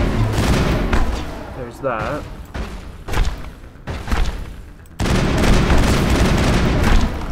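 Gunfire in the video game Mass Effect, dense bursts of shots and thuds crackling through the clip with a louder barrage near the end, while a player talks over the action.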